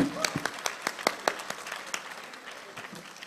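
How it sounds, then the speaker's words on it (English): An audience at a Deep Learning Indaba conference session gives a brief round of applause: sharp, scattered hand claps, densest at first, then thinning and fading within a few seconds. "Can we have a huge round of applause for InstaDeep and Zindi?"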